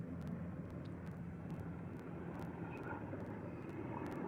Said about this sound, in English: as the motherfucking military choppers go over